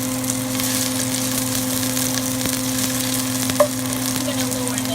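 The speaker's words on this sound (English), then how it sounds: "Now I'm gonna add garlic and ginger paste in it." Garlic and ginger paste sizzles steadily in a hot frying pan alongside browning vegetables for noodles, a constant close crackle with a steady hum beneath and one brief clink near the end.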